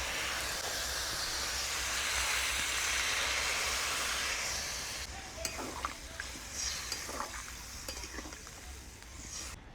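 Spiced water poured into vegetables frying in a pan for Bengali dudh shukto, giving a loud steady sizzling hiss that eases after a few seconds into quieter bubbling with light stirring and clinks.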